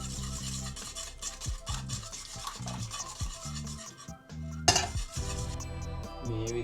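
A jaggery and coconut mixture is stirred in a metal pot, with rhythmic scraping and clinking of a spoon against the sides and a sharper knock near the end, up close and alone.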